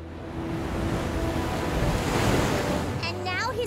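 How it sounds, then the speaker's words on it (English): Rushing river water in a children's cartoon, a broad steady roar of surging flow with wind-like noise, loud and continuous, with brief squeaky animated effects near the end. "now he's about to be swept up by the rushing river"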